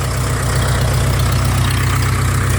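Farmall 400D tractor diesel engine idling steadily while warming up, a loud, even low throb with a regular knocking pulse, close by and without talk.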